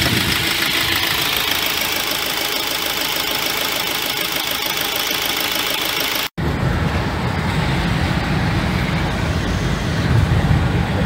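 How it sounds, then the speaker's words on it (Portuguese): A 2013 Fiat Ducato van driving on a highway after a cylinder head repair, a steady loud engine drone blended with road and wind roar, with a brief cut partway through and a slightly deeper rumble afterward. "estamos aqui andando na Ducato 2013"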